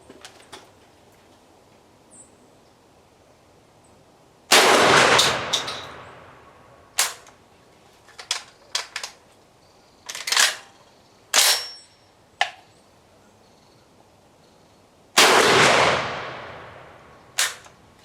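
Centurion BP-12 semi-automatic shotgun struggling to cycle light ammunition outdoors, with two loud booming shots separated by several sharp metallic clacks of the action being worked by hand, close and with no talk.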